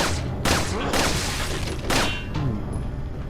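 Loud, close bursts of gunfire and heavy explosions from the video game Resident Evil 4, with several sharp booming blasts in a rapid, irregular volley.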